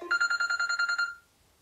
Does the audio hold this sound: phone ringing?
yes